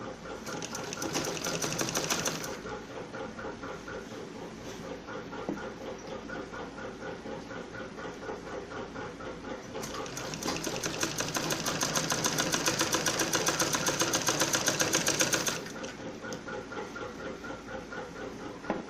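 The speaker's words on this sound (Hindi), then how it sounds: "मैं पहले इस पर एक डबल सिलाई लगा लूँगी" Sewing machine running a double line of stitching on a kurti: close, rapid mechanical chattering in long steady runs, the motor speeding up and growing louder in the middle stretch before settling back.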